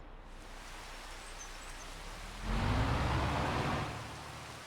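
Steady broadband rain hiss from a Farming Simulator 25 farm game, swelling louder and denser for about a second midway before easing back to a constant wash, with no voices.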